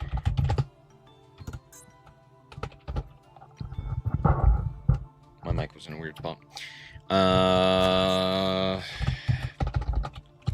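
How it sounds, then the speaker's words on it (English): Rapid clattering keystrokes on a computer keyboard come in bursts, close and fairly loud, mixed with a person talking and a sustained tonal music sound partway through. "I am really good at typing, I promise."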